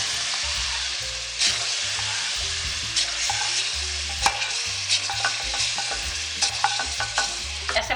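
Flour being stirred into simmering beef nihari in a pot, a steady sizzle and bubbling with scraping spoon strokes against the pot, close up with no talking.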